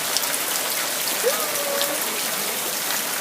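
Steady rain falls at the start of the rainy season, a dense, even hiss of drops on surfaces that runs unbroken throughout, with a faint voice briefly under it.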